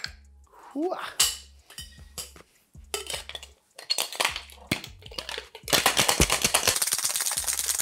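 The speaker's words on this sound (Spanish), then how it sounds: "Agregamos hielo y vamos a agitar vigorosamente." A cocktail shaker packed with ice for a pink cocktail is shaken hard in several short bursts, each a loud rattle, then one long continuous close rattling stretch at the end.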